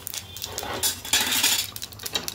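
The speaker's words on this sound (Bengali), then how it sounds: "এইভাবে নাড়তে থাকবো।" A utensil stirs mung and chickpea lentils in a metal cooking pan, giving close scraping and clinking strokes in an irregular rhythm.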